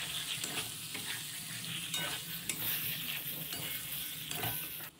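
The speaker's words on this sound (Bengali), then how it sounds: "আমরা নাড়তে থাকবো।" Boiled moong and chana dal being stirred through hot spiced oil in a pan, with a steady close sizzle and frying crackle under repeated scraping stirs, and no talking.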